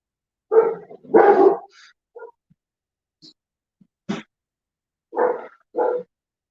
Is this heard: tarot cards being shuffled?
no